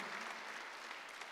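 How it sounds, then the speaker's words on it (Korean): Church congregation applauding together during a Sunday worship service, a dense, steady wash of clapping hands that stays even and fairly loud throughout the short burst. "박수 하세요."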